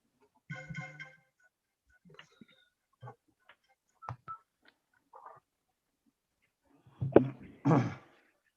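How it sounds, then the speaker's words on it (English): A few short electronic beeps and tones sound sparsely, with a louder burst of chirping notifications near the end, otherwise quiet. "all the damn notifications and beeps and boops"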